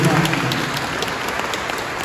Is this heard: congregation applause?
yes